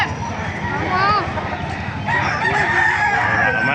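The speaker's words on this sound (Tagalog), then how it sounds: "napakaraming manok ngayon" Several chickens nearby at a market in Baliuag, roosters crowing in drawn-out calls over a busy background of clucking, loud and continuous.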